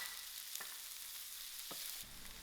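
Onions fry in a pan for a white-fry brinjal dish, a soft, steady sizzle with a couple of brief stirring clacks and a shift in tone near the end.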